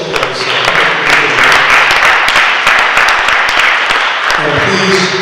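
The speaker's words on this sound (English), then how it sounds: "How about a round of applause for that show?" An audience at a panel discussion breaks into a loud, sustained round of applause, dense clapping that holds steady before tapering off at the end.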